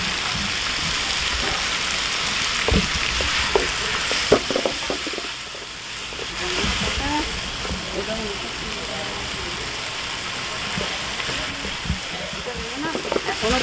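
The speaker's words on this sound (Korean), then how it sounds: "오뎅은 그냥 살짝 볶아줍니다" Mushrooms and vegetables stir-fried in a pan for japchae, a steady close sizzle with scraping and stirring clatter throughout.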